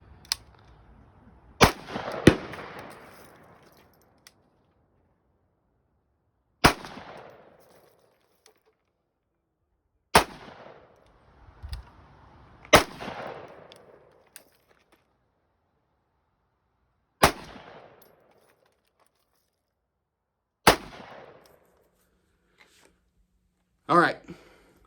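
Rifle gunfire from bullpup and AR rifles on an outdoor range: sharp, loud single shots spaced several seconds apart, each with a short echoing tail, and quiet handling noises between them.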